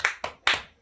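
Children slap out a quick run of claps in a classroom clapping game that counts the planets, the claps sharp and close with brief gaps between them.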